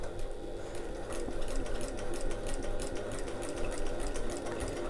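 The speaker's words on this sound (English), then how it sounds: "I'm just going to pop that under my machine and make sure my seam is nice and pulled out taut." A sewing machine stitches a seam on a backpack pocket panel through bulky layers, a close, continuous rapid whirring with a fast regular needle rhythm throughout.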